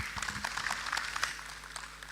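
Audience applause at an agricultural innovation conference in Africa, a steady wash of many hands clapping at once, moderately distant and even in level for a couple of seconds, with no voice on top.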